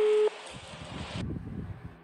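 An outgoing telephone call on a television quiz show, with a steady electronic tone that cuts off into brief line noise and clicks before another tone starts, close and clear, with no talk.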